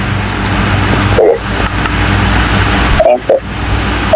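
A car being driven, heard from inside the cabin as a steady broadband road and engine rumble, with a few brief voice sounds and small knocks.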